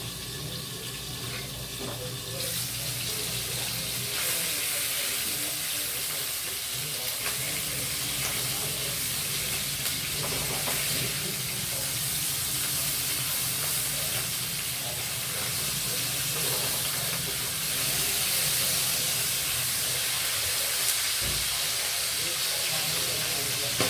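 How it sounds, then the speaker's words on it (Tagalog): Continuous hissing sizzle of mackerel frying in oil in a pan, steady and close, with occasional faint kitchen clatter. "nagpiprito pa ako dun sa ating kawali"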